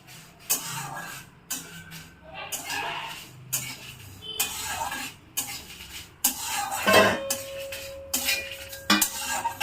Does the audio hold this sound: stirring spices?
yes